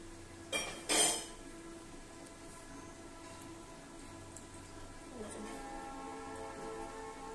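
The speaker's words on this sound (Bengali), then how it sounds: "এই যে মাছগুলো ছেড়ে দিচ্ছি একটা একটা করে" Fish pieces slipped one by one into hot oil for a home-cooked Bengali meal, two sharp splashy crackles near the start giving way to a steady frying sizzle that swells again later, with faint utensil clinks.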